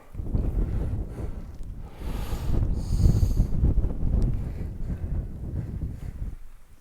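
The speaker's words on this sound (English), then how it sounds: "It's so windy I can't hold the camera." Strong wind buffets the microphone in heavy, continuous low rumbling gusts, loud and close throughout with no voices, on the Cheviot border ridge.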